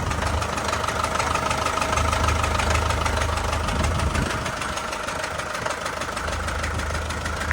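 A small Foton-Lovol 454 Plus tractor engine (45 hp, with cab) idles nearby with a steady, rapid knocking chug that holds even throughout, with no voices.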